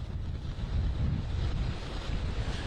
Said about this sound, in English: That was a nice gust of wind there